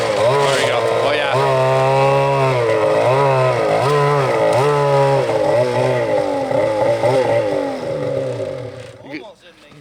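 A Polaris AXYS RMK snowmobile with a turbo and a Jaws pipe revs loudly up close. The engine pitch rises and falls repeatedly in a rough, buzzing wail before it fades at the end, while people talk over it.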